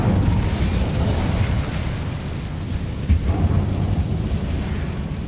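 An Incendio fire spell cast in the video game Hogwarts Legacy, a dense rumbling burst with booming low weight and a sharp pop partway through, loud and continuous.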